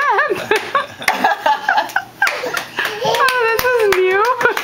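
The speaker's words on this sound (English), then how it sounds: "We have to clap at every step." A baby girl of about ten and a half months taking her first steps claps along with adults: scattered hand claps punctuate cheerful, encouraging adult voices and a child's babbling, with laughter close by.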